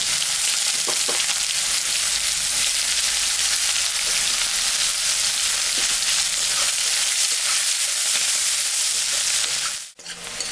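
Chopped onions frying in oil left from frying fish, with dried chillies and cumin already tempered, giving a loud, steady sizzle with light stirring scrapes throughout, ending in a brief bump near the close.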